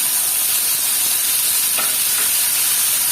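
Pork goes into a pan with toasted garlic and onion for Filipino adobo, frying in a loud, steady hissing sizzle with one brief scrape partway through.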